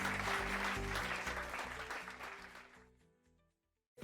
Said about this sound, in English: Wow, the crowd is going nuts.